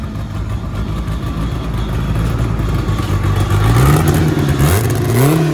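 A Chevette fitted with a heavily modified OHC engine idles roughly and then revs, the pitch climbing and wavering as the throttle opens, loud and close with mechanical clatter.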